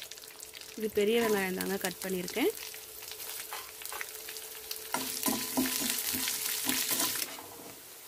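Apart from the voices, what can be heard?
frying chana dal, urad dal and onion with curry leaves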